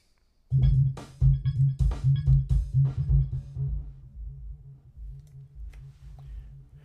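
A heavily distorted bass line with a dull, clipped tone from a slew clipping effect thumps in a steady rhythm, loud and up close, then fades somewhat toward the end.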